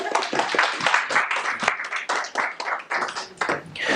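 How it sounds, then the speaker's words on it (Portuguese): An audience claps for a woman called to the front at a personal development workshop, with quick uneven hand claps from a small group for about four seconds, close and lively. "palmas pra ela."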